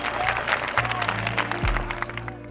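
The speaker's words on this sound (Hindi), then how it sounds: "गाना सुनने के बाद बच्चों ने खूब तालियां बजाई" Schoolchildren in a school gathering applaud after a patriotic song, a steady dense patter of many hands clapping at moderate distance, with some voices and low hum mixed in.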